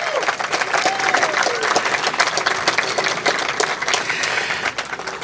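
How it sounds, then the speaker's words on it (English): A community gathering at the Bush Hills Connection Complex in Alabama breaks into sustained applause, a thick, even wash of many hands clapping with a few cheers mixed in throughout. "big round of applause."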